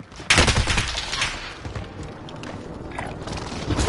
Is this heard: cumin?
no